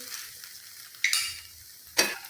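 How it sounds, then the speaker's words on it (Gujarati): Uttapam brushed with ghee sizzles quietly on a hot griddle, with two sharp bursts of louder crackling as batter or ghee meets the pan, and no voices. "અને બંને સાઈડ સારી રીતે ચડવા દેવાના છે ઉત્તપમ બનાવી લેવાના છે"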